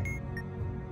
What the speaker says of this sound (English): Shut up, alarm clock. Nobody likes you.